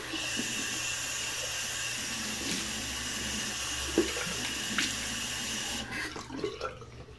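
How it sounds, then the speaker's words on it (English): Water runs steadily from a tap as someone splashes and wets their face, a continuous hiss with a few small splashes before the flow cuts off near the end. "Wet my face real quick."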